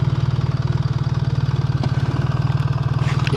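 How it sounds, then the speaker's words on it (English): A BMW R1300 GS motorcycle engine idling on a snowy winter countryside ride, an even low throbbing pulse at moderate level, steady throughout with faint wind and road noise and no talking. "Oh God, this engine just purrs."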